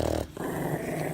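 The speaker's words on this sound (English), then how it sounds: "He's growling at me" A dog growls close up in a continuous low rumbling snarl, briefly breaking off before resuming, loud and alone.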